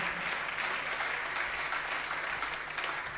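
Audience applause during a Jain religious discourse, sustained dense clapping from a sizeable crowd in a hall, steady and loud for several seconds.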